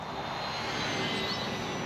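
A small VolantexRC Trainstar Stunt RC trainer plane flies overhead, its electric motor giving a steady, continuous propeller whine that holds at a fairly even level throughout.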